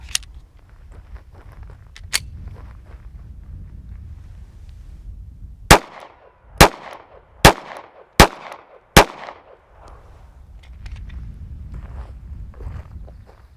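Five loud gunshots from a Glock 42 pistol loaded with Underwood hollow point rounds, fired at a steady pace of about one per second, each a sharp crack with a short ringing tail, framed by quieter shuffling and handling sounds before and after.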